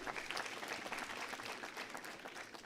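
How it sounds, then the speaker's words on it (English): Audience clapping at a university graduation ceremony, a quiet but steady, even patter of many hands from a distant crowd. "Can we clap for him?"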